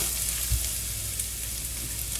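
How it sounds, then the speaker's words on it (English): Corned beef hash sizzles and crackles steadily in hot olive oil in a pan, a continuous close hiss with no voices. "sizzling is burning if you let it go"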